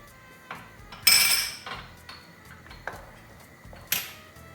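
Metal lid placed on a pot of lentil soup: a few sharp clinks and clatters of metal on metal, fairly close and alone, with quiet gaps between the knocks.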